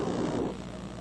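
Steady broadband roar of a twin-engine passenger airliner climbing after takeoff with 87 people aboard, a continuous loud cabin rumble that eases slightly partway through.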